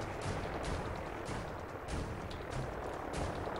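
Rapid gunfire in the video game Fallout 4, a continuous rattle of shots over a rumbling noisy background, fairly faint and distant.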